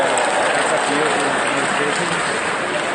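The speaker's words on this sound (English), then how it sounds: "Let's give them a round of applause." Convention audience at a Nevada Democratic state convention applauding volunteers on the tellers committee, a continuous, dense wash of many hands clapping, steady and loud throughout, with crowd voices mixed in.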